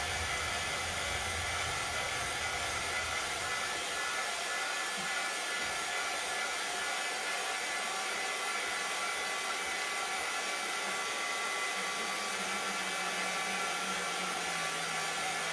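A hair dryer blows steadily on a painted plate, giving a loud, even whooshing hiss that runs throughout with no talking.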